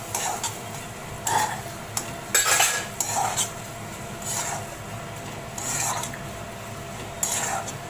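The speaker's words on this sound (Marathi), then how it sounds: "आता याच्यात आपण कोथंबीर टाकली आहे ती पण चांगली परतून घेऊ व्यवस्थित" Clams being sautéed with fresh coriander in a pan, heard as intermittent scraping and clinking of a utensil against the metal pan over a low background hum, with no talking.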